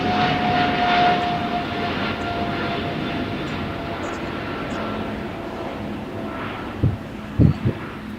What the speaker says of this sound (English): another plane just comes in as we have Air Canada Flight 791 landing 125 left